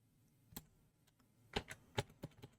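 Keys on a computer keyboard click in sparse, irregular taps, a lone stroke followed by a quick cluster of sharp presses, close and clear in an otherwise quiet room.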